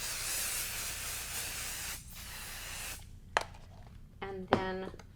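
Basting spray hisses lightly across a folded-over quilt and batting, a steady broad aerosol spray for about two seconds, then a pause followed by a few short sharp bursts and brief handling sounds close by.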